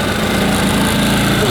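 A GTM 2.5 kW portable petrol inverter generator runs steadily nearby, a loud, even engine drone with a buzzing hum that holds constant throughout.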